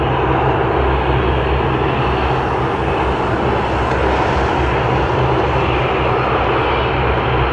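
A WestJet Encore Dash 8 Q400 turboprop at Toronto Pearson gives a loud, sustained engine roar that holds steady throughout, close and alone with no voices.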